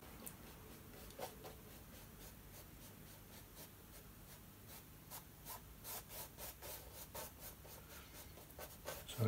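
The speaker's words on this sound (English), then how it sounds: "I'm just going to blend the bottoms of these stones." A hog's hair brush blends oil paint along the bottoms of stones in a seascape, giving a steady soft bristly scrubbing that quickens into rhythmic close strokes toward the end.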